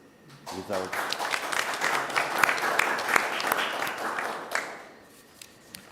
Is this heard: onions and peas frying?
no